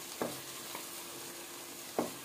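A steady soft sizzle of veg kurma frying in a pan, with a few knocks and scrapes of a spoon as mixer-crushed tomato is stirred in; no one speaks.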